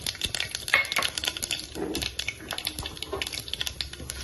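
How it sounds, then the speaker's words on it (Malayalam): Mustard seeds crackle and pop in hot oil while tempering for masala dosa filling, a dense, irregular run of sharp close-up snaps and clicks that continues throughout. "കടുക് അവിടെ കിടന്ന് പൊട്ടുമ്പോൾ"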